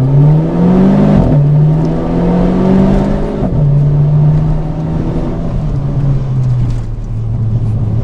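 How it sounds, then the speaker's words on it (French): A 200 hp Renault Clio 4 RS engine revs up loudly, its droning pitch climbing and dropping through several gear shifts as it accelerates. "On va faire une petite accélération"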